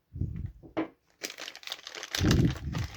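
Packaging of a boxed Motorola DynaTAC mobile phone is opened, with close crinkling and crumpling rustles in short uneven bursts and brief pauses.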